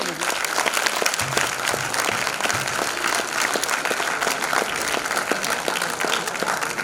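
Children in an auditorium clap loudly in a dense, sustained burst that fills the room, with a voice speaking over the applause in places.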